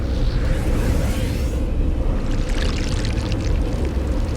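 Harsh, rumbling water noise on an alien planet in No Man's Sky fills the scene, a loud, continuous roar with a rushing hiss that swells and shifts throughout.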